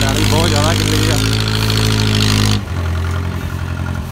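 A Mahindra 475 DI tractor engine runs loudly nearby with a steady low rumble, revving briefly before settling, while people talk over it on wet farm ground.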